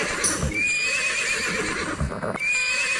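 A horse whinnies loudly against a steady background, with a second neigh near the end and a faint hint of hoof clatter, set within a Hindi folk ballad about a battle.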